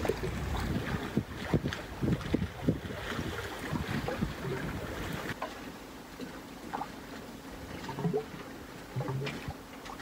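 Wind gusts buffet the microphone aboard a small sailboat on the Hunter River, with choppy rumbling bursts, water slapping against the hull, and loud irregular blasts that ease into a steadier rush.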